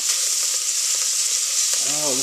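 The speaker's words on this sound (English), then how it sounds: "Oh, listen to that sizzle there." Chicken pieces browning in a pot give off a steady, loud sizzle of hot oil throughout, close up, with a brief stir or clink near the end and no talking.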